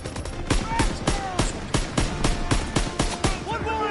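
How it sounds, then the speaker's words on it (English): Enemy machine guns fire during a World War II battle in Call of Duty WW2: sharp, evenly spaced shots repeat rapidly and close throughout, while voices shout over the gunfire. "Those MGs are ripping us apart!"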